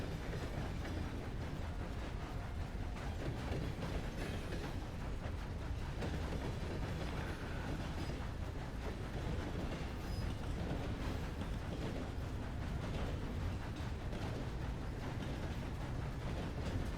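A video game train runs steadily, a low continuous rumble with faint rhythmic rail clatter, moderately quiet and unbroken throughout.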